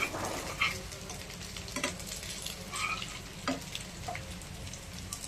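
Paneer pieces fry until crisp in a pan, giving a steady close sizzle with occasional small pops and light stirring clatter. No one speaks.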